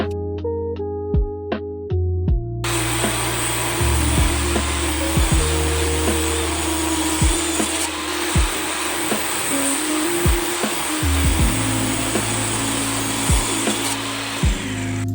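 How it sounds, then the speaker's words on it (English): Hickory wood is cut on a miter saw and a table saw: a few sharp ticking clicks, then a loud, bright, sustained saw whine through the dense hardwood, with thumps and small shifts in pitch as the cut goes on. "I again got that quickly cut up to shape on the miter saw and the table saw"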